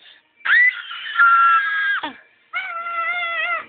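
A young child screams when asked to, two sustained high-pitched shrieks separated by a brief pause, loud and close with no other sound around them.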